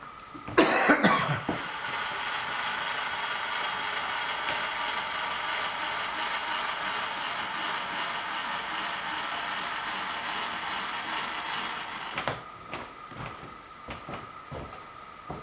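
A ratchet clicks steadily for about ten seconds as it tightens on a shop-built steady rest. A brief clatter comes first, and a few softer mechanical knocks follow after the ratcheting stops.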